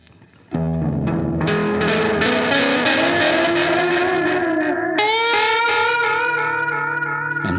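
An effects unit driven hard into distortion turns a sustained tone into a loud, gritty, saturated drone that kicks in abruptly after a quiet start and shifts pitch midway, with no talking.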